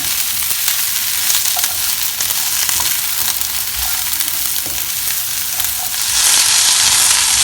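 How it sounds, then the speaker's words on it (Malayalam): Ridge gourd sautéing in hot oil in a pan, a steady loud sizzle with stirring scrapes throughout, swelling brighter and louder near the end; no talking. "ഇനി ഇതിലേക്ക് പീച്ചങ്ങ ഇട്ട് കൊടുക്കണം. ഇനി ഇത് നന്നായിട്ട് വഴട്ടിയെടുക്കണം."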